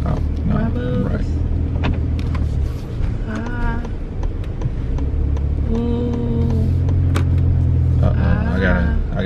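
A car driven gently on the road, its low engine rumble and road noise running steadily throughout beneath voices talking over it.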